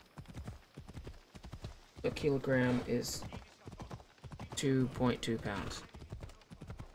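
Horse hooves clip-clop in the video game Assassin's Creed Odyssey, a quick, steady run of hoofbeats close by, partly under someone talking.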